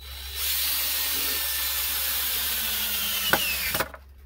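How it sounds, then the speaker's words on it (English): Power drill driving a third screw into the middle of a pallet wood board for a kid's bench, a steady loud whine running for several seconds before stopping with a couple of short clunks. "I'm going to throw a 3rd screw in the middle here."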